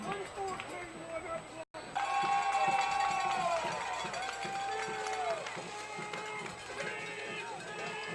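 A crowd in the stands at a Troup vs. Cairo high school football game voices a repeated beep-beep mimicking a backup signal, the rising and falling tones carried over loud sustained crowd noise and cheering.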